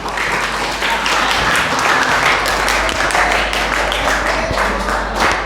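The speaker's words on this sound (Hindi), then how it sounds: "ताली बजाओ" An audience claps together at a school quiz-show event modeled on Kaun Banega Crorepati, giving a loud, steady, dense round of applause that continues evenly throughout with no clear speech.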